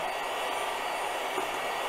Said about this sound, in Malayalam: ഞാനിപ്പം ബീറ്റ് ചെയ്യാൻ പോവുകയാണ്.